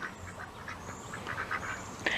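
Cayuga ducks quack in a steady run of short, repeated calls at close range, with a louder burst near the end and no talk over them.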